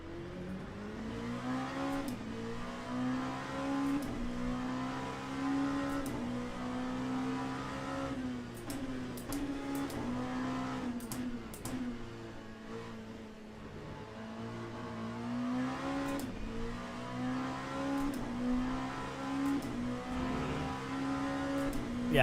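Onboard engine sound of a hypercar in the Le Mans Ultimate racing simulator, a steady droning engine note rising and falling through gear changes and revs, heard alone without talk.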